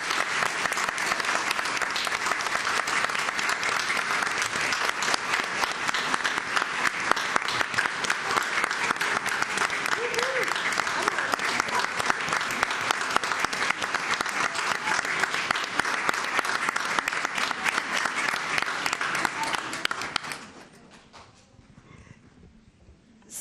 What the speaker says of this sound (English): yes, we'll give them applause